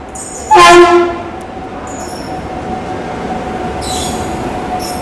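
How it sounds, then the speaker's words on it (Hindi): A double-decker express train in India running at speed around 130 km/h, with a brief loud horn blast near the start, then a steady rail rumble and faint higher-pitched wheel noise. "ये जो ट्रेन है एकमात्र ऐसी डबल डेकर है जो 130 किलोमीटर प्रति घंटे की रफ्तार में चलती है"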